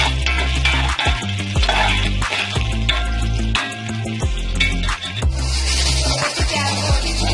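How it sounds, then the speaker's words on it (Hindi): Onions browning in a pan for chana pulao, a loud, close sizzle and frying hiss broken by repeated sharp stirring knocks and scrapes of the utensil. "प्याज बहुत ही तरीके से मैंने ब्राउन कर दिया"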